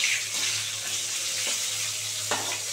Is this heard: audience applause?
no